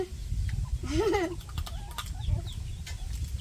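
A hen lets out a clear, wavering cluck-squawk near the middle, followed by softer scattered clucks and chirps from other fowl, all over a steady outdoor rumble.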